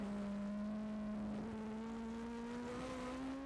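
A steady, high-pitched engine drone holds at racing speed, the pitch slowly rising as the motor winds up, constant and moderately close.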